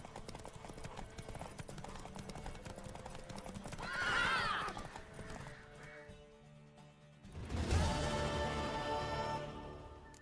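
Horse hooves clip-clop at a gallop in The Witcher 3, with a loud neigh rising midway and another burst of whinnying and hoofbeats later, layered over game music and ambience.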